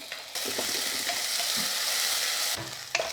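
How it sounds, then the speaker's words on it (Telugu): Onions with ginger-garlic paste frying for mutton pulao give a steady, loud hiss in a pan, broken by a few soft stirring knocks and scrapes, with a brief quieter gap at the start. "ఉల్లిపాయ కొంచెం మంచిగా వేగితేనే బాగుంటుంది ఇందులోకి."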